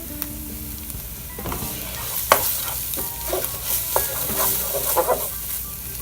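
Ingredients for tomato basil marinara sauce stir and sizzle in a hot pan, with soft frying crackle under repeated scraping clinks of a utensil against the pan. It is up close, and nobody speaks.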